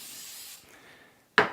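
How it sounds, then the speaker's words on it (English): Cooking spray hisses steadily from a can onto the hot bottom plate of a panini press, a soft continuous spray that fades, followed by a brief sharp burst near the end. "Spray the bottom."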